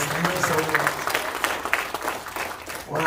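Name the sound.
audience applause in church service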